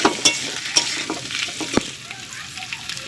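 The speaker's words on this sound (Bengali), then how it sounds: "মাংসটা ভাজার পর দিয়ে দিয়েছি আলু" Meat and potatoes fry in a pan for biryani, with a steady close sizzle and occasional light clinks and scrapes of a spoon stirring.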